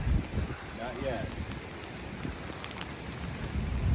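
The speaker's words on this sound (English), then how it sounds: "Yeah, it's called a downpour." Heavy rain pouring down on a wooded park at night, a steady hiss of drops on surfaces with low rumbling underneath, a voice murmuring faintly early on.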